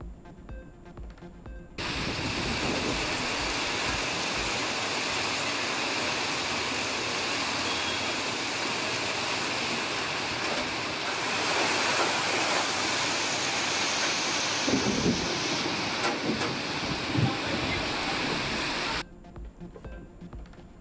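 Steady, loud summer rain with wind in Tamil Nadu makes a dense, continuous hiss that starts suddenly and cuts off near the end, with no talk over it.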